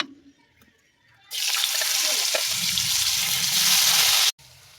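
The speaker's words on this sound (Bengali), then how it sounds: "এবার আলুগুলোকেও ভেজে নেব" Potatoes dropped into hot oil in a pan burst into a loud, dense sizzle that holds steady for about three seconds before cutting off abruptly, after a quieter lead-in.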